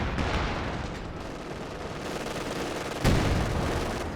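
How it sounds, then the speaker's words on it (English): Artillery and gunfire in a Company of Heroes 2 battle with pack howitzers, a dense continuous rumble of shots and blasts with a louder impact near the end. "That artillery drops really quickly"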